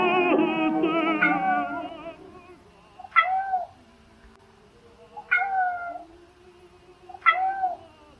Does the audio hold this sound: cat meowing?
yes